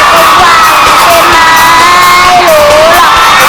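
A loud audience at a Thai family TV show cheers and whoops continuously, with children's shouts and high cries rising over a dense, sustained crowd roar.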